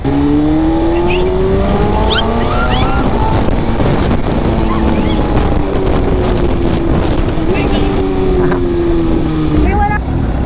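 Big bike motorcycle riding with a loud, steady engine drone and shifting revs throughout, heavy wind buffeting and people talking over it.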